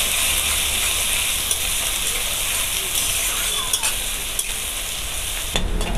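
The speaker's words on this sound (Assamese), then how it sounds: "এতিয়া এইখিনি মই অকণমান ৰঙচুৱা হোৱালৈ ভাজি ল'ম" Finely chopped onions with a pinch of asafoetida fry in hot oil for an Assamese rajma curry, giving a constant dense sizzle with occasional stirring scrapes, close and steady throughout.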